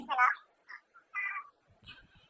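A cat gives a few short meows, a louder one first and then softer, brief calls with quiet gaps in between.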